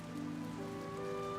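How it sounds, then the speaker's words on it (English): Steady rain patters on a surface in a movie scene, a constant close wash of drops with a soft sustained musical tone running underneath, and no voices. "Is it still raining?"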